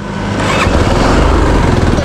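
A machine engine runs close and loud, a steady rough drone with a pulsing low rumble that builds slightly at the start and then holds evenly.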